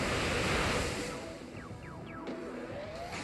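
Waterfall attack sound effect from a competitive Pokémon video game tournament battle: a loud, close rush of surging water with a few quick rising chirps and no talking.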